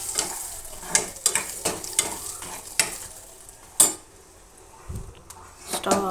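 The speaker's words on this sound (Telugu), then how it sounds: "వేసి ఇదంతా బాగా మిక్స్ చేసేసుకొని" A spoon stirs and mixes dal tadka in a pan, scraping and clinking against the metal in a series of irregular strokes over a soft background sizzle, with no talking.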